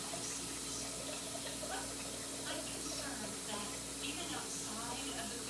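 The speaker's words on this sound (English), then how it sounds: "I'm gonna put water in here." Water runs from a tap into a container in a home kitchen, a steady hissing splash that holds for several seconds, with faint clatter and talk around it.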